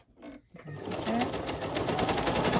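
A sewing machine zigzag stitching fabric and paper scraps for a junk journal, starting up after a couple of soft knocks and then running fast and steadily, close and loud.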